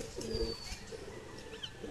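A young pigeon chick coos softly during hand feeding, a few low, close murmuring calls over a quiet background.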